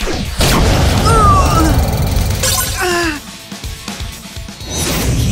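A direct attack effect in Yu-Gi-Oh Duel Links: a loud boom and shattering crash with a whooshing sweep, followed by quieter rumbling effects over a game soundtrack, with a voice heard at times.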